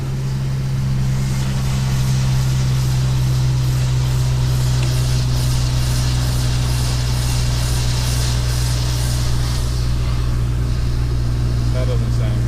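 BMW M3 with S54 engine in SMG6 mode, a steady loud exhaust drone with deep low rumble heard from inside the car, continuous throughout.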